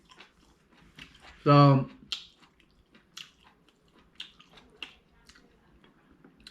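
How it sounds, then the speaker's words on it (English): One loud crunchy bite into crisp stir-fried cauliflower with beef, followed by quieter, intermittent chewing crunches close to the mic, after a single spoken word. "The cauliflower is still crunchy."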